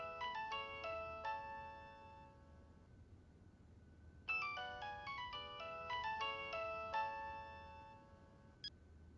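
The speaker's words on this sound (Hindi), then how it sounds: "फोन बज रहा है तुम्हारा, प्लीज उठा लें।" A mobile phone ringtone plays a bright, repeating chime melody in two bursts, a short pause between them, with no talking over it.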